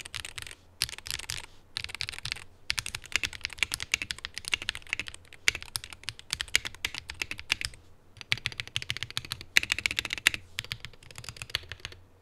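Fast, continuous typing on a MelGeek MADE 68 Pro HE magnetic-switch keyboard, close and crisp, with dense clacking bursts broken by brief pauses.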